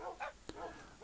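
A Minecraft wolf giving a couple of short, yappy barks in quick succession, clear and fairly close, with a brief click between them.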